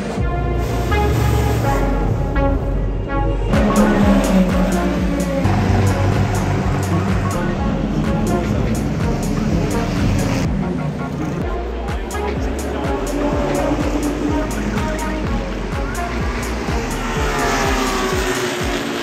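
Historic race cars rev and roar during the Le Mans 24 Hours warm-up in 2023, loud engine blasts and passing cars with sharp bursts, while someone talks over the noise.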